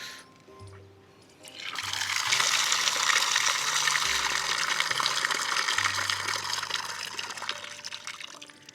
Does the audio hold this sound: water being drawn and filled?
yes